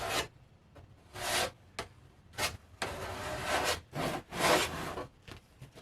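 Putty knife spreading thin coats of glazing putty across a curved astromech dome. Short scraping strokes come in irregular bursts with brief pauses between them, close and fairly quiet, with no talking.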